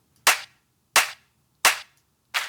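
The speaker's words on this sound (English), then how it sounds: "Like a live clap to go with this one" A live clap sample for a drum and bass track strikes four times at an even, steady pulse, each hit crisp, dry and close, with clean silence between them.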